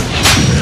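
A war-film explosion hits as a single sharp, loud blast with a rumbling tail, close and alone.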